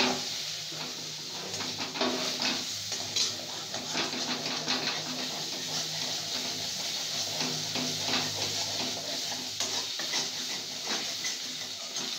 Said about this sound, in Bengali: সেটা কড়াই দিয়ে মশলার সাথে ভালো করে কষে নিচ্ছে।